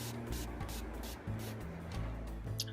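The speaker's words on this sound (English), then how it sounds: "So I just finally ran out of dye in that little spray bottle." Short hissing bursts from a small spray bottle misting leather dye come in a series of quick pumps over a low steady hum, with one sharper spritz at the end.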